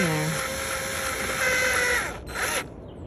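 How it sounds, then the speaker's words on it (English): Power screwdriver whirring as it drives screws into the plastic tail light housing of a 2012 Chevy Traverse, a few short high-pitched motor runs and stops, close up, with a voice speaking over it. "Just get my screws, and I turn the direction of my screwdriver righty-tighty."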